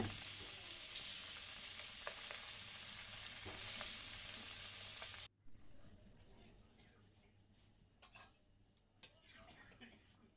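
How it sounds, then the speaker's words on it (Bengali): Koi fish fry in oil over a village clay stove with a loud, dense sizzle for the first half, then a quieter crackle with occasional clinks, while someone talks. "অনেকগুলো মাছ তো একবারে ভাজাও যাচ্ছে না এর জন্য দুই তিনবারে মাছগুলো ভেজে নেওয়া হচ্ছে"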